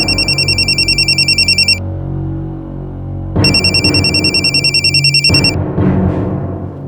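A telephone rings in bursts, a bright electronic bell pattern that repeats three times with short gaps between, loud and close, with no talking over it.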